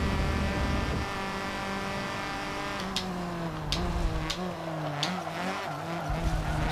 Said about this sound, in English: This car's so loud